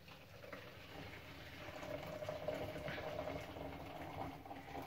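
Boiling water, three decilitres, poured from a prepared vessel into a bag for chicken fried rice, giving a steady, moderately loud rush of liquid that lasts throughout.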